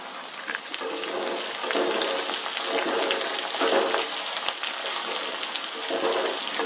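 Large onions fry in a hot pan for sundakai vathal kuzhambu, a steady close sizzle with soft stirring scrapes running throughout, no talking.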